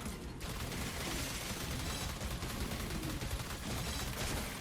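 Rapid gunfire from shooting orcs in the tower-defense video game Orcs Must Die, a dense, continuous barrage of loud shots and impacts filling the whole stretch without a break.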